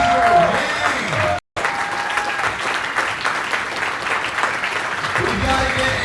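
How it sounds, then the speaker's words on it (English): Audience at an Andrew Yang town hall in Dubuque, Iowa, breaking into sustained applause, a dense wash of clapping that continues steadily with a brief dropout, crowd murmur and a voice underneath. "We can have a round of applause to the next president of the United States, Andrew Yang."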